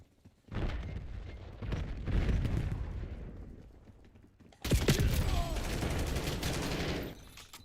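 Light machine gun fire in Call of Duty Black Ops 7 rattles in sustained bursts, first in a couple of rough volleys and then a louder, closer continuous stream of rapid shots, with a voice faintly heard.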